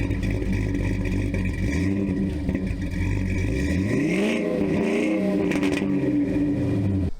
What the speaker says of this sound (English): let's fire it up so you can hear these headers